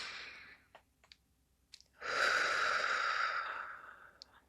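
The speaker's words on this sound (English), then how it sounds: "Inhales and exhales very slow." A slow, calm breath, inhaled and exhaled during a relaxation exercise: a faint intake followed by a long, soft exhale lasting about two seconds, close and quiet with small clicks around it.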